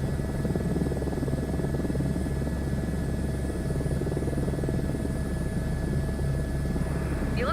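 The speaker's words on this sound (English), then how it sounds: "it's hard to watch chat and fly a helicopter" A simulated helicopter flies in Microsoft Flight Simulator 2024, a steady loud rotor drone with a constant buzzing hum that holds unchanged throughout, with no talk.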